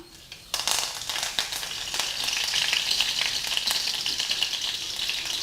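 After a moment of quiet, curry leaves drop into hot oil with popped mustard seeds and burst into loud, crackling sizzling that continues steadily, close up.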